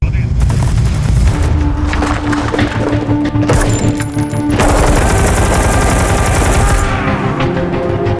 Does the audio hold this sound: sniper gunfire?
yes